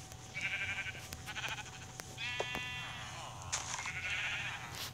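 Several sheep bleat in Minecraft Pocket Edition, a quiet cluster of wavering game calls repeating over a few seconds, with a voice talking faintly underneath.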